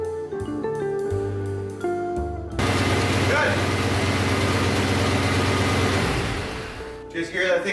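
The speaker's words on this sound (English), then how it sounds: "Just hear that thing idle? She idles." Ford Bronco engine idling inside a shop, a steady low rumble filling the space after some clanking, with steady mid-range noise over it and a fade near the end.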